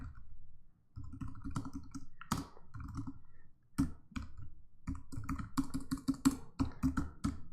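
Clacking of a computer keyboard during Angular 2 live coding, bursts of quick keystrokes broken by brief pauses and a few sharper clicks, close and clear with no talk over it.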